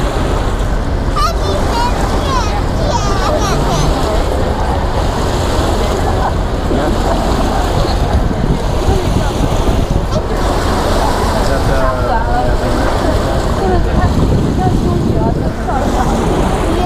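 A tour boat on the San Antonio River Walk runs at full speed in the rain, with a steady engine drone, water rush and gusty wind buffeting the microphone, while a guide talks over it.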